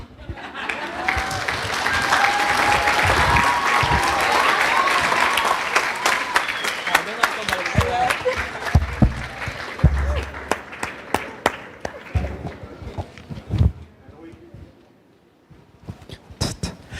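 A crowd at a high school commencement claps steadily, building to a full round before breaking into scattered, uneven claps that fade out near the end.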